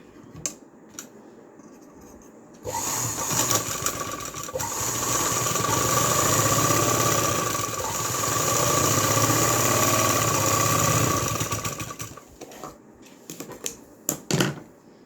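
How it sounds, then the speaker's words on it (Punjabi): Sewing machine stitching the waistband onto a salwar, a steady close whirring run of about nine seconds that rises and eases, bracketed by a few short clacks and taps before and after. "ਇਸ ਤਰ੍ਹਾਂ ਇਸ ਨੂੰ ਬਰਾਬਰ ਕਰਦੇ ਹੋਏ ਸਲਾਈ ਲਗਾਓਗੇ"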